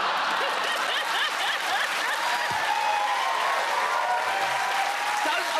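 A studio audience at a comedy panel show breaks into sustained applause, a dense even roar of clapping mixed with scattered chuckles and cheers, with a voice faintly underneath.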